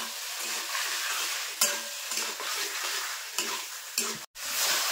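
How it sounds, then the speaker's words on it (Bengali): Chicken and spice paste being stirred and fried in a pan, a dense continuous sizzle broken by repeated scraping strokes of a spatula, close and even, with no talking. "মশলার সঙ্গে মাংসটা কিন্তু খুব ভালোভাবে কষিয়ে নেব।"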